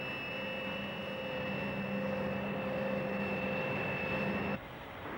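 An airplane on its descent gives a continuous droning engine hum with steady tonal whine, moderately loud and unbroken, then cuts off abruptly near the end; no voices.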